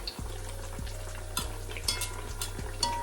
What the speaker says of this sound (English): I'm doing some fried plantain as well. So yeah, let me turn them over.